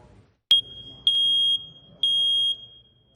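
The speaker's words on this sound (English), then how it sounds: "That's the sound of a smoke alarm." A smoke alarm gives three loud, piercing high-pitched beeps, each about half a second long and spaced roughly a second apart, with no talk over them.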